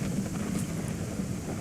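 Low, steady rolling thunder rumbles through a rainy storm in the farming game Ranch Simulator, a continuous dense roar with no voices.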